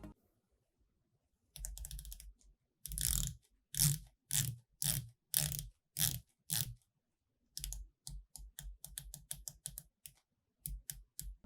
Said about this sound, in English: Let's hear that bezel.